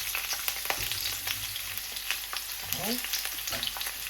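Onions fry in a pan with a steady, close sizzle and occasional scraping stirs, while a voice speaks briefly.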